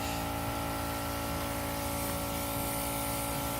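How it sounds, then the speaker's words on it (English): An airbrush sprays brown colour onto the fondant of a Sorting Hat cake, a steady, even hiss of air that runs unbroken and close for the whole stretch. "I thought I would do it with my airbrush."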